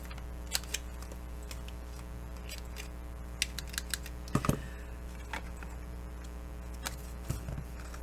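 A handheld corner rounder punch snaps repeatedly as it rounds the corners of photos, sharp separate clicks spread over a low steady hum, with one louder crunch midway.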